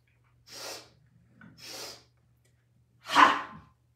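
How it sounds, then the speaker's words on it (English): A person doing energizing yoga breathing takes three quick sniffing inhales, each short and breathy, then releases one forceful voiced 'ha' exhale, close and clear in a quiet room. "three sniffs to inhale, and then one big exhale with a sound, a sigh, a ha, getting that energy out"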